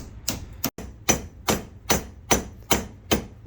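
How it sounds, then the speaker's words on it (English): A hammer taps an epoxy-coated wedge into a hatchet handle: about eight sharp, evenly spaced knocks roughly every half second, close and clear against a quiet background. "I'm just going to tap the wedge in again with some epoxy on it"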